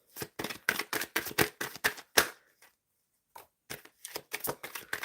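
Tarot cards being shuffled by hand in quick riffling bursts, a rapid run of crisp flicks, a short pause, then another round of snappy shuffles, close and clear with no talking.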